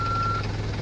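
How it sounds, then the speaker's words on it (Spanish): A backhoe's reversing alarm sounds a steady, loud electronic beep over the low rumble of the idling machine as it is put in reverse. "ponemos en retro y se retrocede y suena la alarma"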